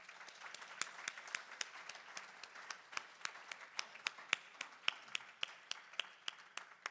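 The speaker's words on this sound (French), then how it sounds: "Est-ce qu'on peut l'applaudir ce soir?" Faint, distant audience applause at an evening awards gala: sparse individual claps ring out sharply over a soft, steady bed of clapping throughout.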